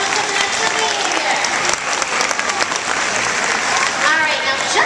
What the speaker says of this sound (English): Let's give her a round of applause for some of the behavior.